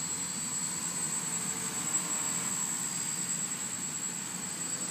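Hexacopter drone flying steadily, a constant whirring rotor drone with a thin high whine, moderately loud and unbroken with no talking.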